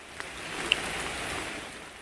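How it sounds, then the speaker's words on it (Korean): Soft, steady rain patters in a gentle wash of noise with a couple of faint drips, quiet and continuous, heard beside a small café in a metasequoia recreation forest. "여기에서 커피 한잔 하면서 빗소리를 들었는데요"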